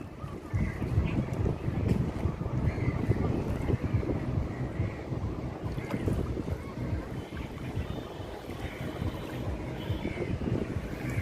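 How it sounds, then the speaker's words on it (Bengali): A boat moves across the middle of a river in a steady low rumble of water and wind buffeting the microphone, close and continuous, with faint voices at times. "হ্যাঁ, আমরা নৌকাতে ঘুরতেছি।"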